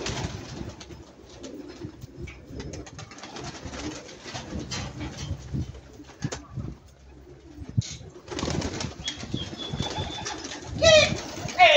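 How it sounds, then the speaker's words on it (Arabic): Fancy pigeons call with soft cooing and a few flutters of wings, close by and intermittent, with scattered handling noises and a louder burst near the end. "هذا هو الطير هي عندي"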